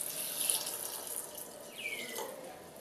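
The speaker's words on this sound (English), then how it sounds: "we're going to add water to cover it" Water from a kitchen tap runs steadily into a pot holding about 250 grams of prunes for Moroccan chicken, a continuous close hiss with a brief gurgle near the end.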